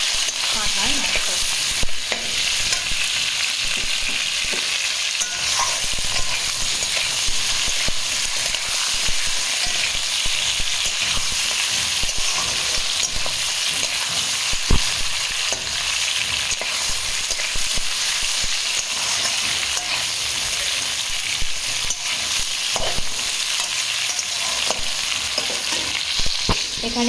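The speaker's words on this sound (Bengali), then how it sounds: "মাংসটা তো আমার এখানে হালকা 2 মিনিট ধরে ভাজা হয়ে গেছে।" Goat meat frying in a pan at home: a continuous, even sizzle and crackle close by, with occasional stirring noises, running unbroken with no speech.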